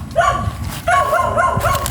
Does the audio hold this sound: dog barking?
yes